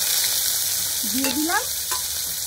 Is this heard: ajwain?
yes